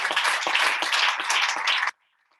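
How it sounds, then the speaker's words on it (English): An audience at a kick-off meeting in Uganda claps in a loud, dense burst of applause for a couple of seconds, then stops abruptly into near silence. "Let's give Jesse another big round of applause"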